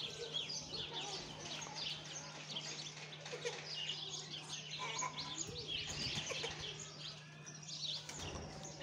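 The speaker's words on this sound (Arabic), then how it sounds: "اصوات اللي هو الطيور البرية صراحة، اصوات كثير كثير حلوة" Wild birds chirping and calling outdoors near a nest of hatching turtle dove chicks, a dense continuous chorus of faint high tweets at moderate distance with no talk.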